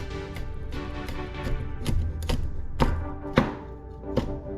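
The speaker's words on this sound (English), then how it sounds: "We're going to slice this. We're actually going to be mincing it really" A knife chops garlic on a cutting board in irregular close thuds, about a dozen sharp strikes at uneven intervals over a faint background hum.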